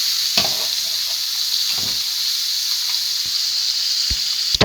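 Koi fish fries in hot oil and is flipped, giving a steady close hiss and sizzle broken by a few soft utensil knocks, with no voices.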